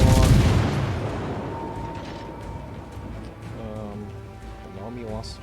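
Ship guns firing in a naval battle video game open with a loud booming salvo that fades into a long rumbling tail, with mechanical clanks and tones after it. Someone talks throughout.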